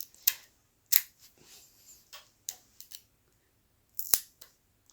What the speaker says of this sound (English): Rip the seal.